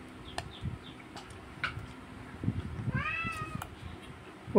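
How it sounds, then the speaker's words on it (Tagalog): Cats arriving for a snack meow outdoors. Several short, fairly faint meows come at intervals over a low background hum, with one clearer, drawn-out meow near the end. "ngayon lang nagdating ang mga pusa"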